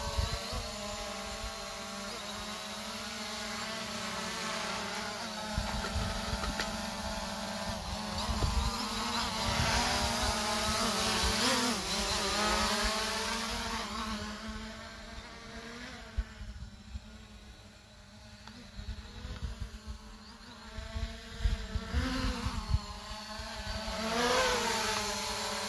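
A Ruko F11 GIM2 4K drone flies nearby outdoors, its rotors giving a steady insect-like whine that rises and falls in pitch as it maneuvers, fairly loud throughout with no speech.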